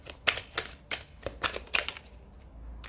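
Tarot cards being drawn and laid down, a series of soft, crisp snapping and flicking taps in quick irregular succession, close and quiet, with no voices.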